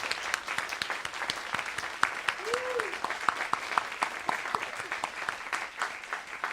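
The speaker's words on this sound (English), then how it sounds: "I just would like a round of applause" Audience applause after a reading at a Tennessee Williams tribute event, a steady dense patter of clapping from a room of people sustained throughout, with a brief voice briefly rising over it.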